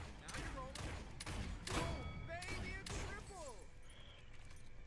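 Rapid shots from Lian's normal fire in the Paladins video game ring out in quick bursts with chirpy tonal zips, steady and close over a dense game soundscape.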